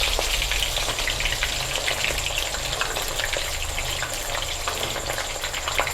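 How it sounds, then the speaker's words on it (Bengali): Lentils (dal) frying in a small ladle for special laddu make a steady, dense sizzle and crackle with no pauses, close and fairly loud throughout. "আমি একবারে ডালটাকেই ভেজে নিচ্ছি"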